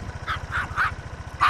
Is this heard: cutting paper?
no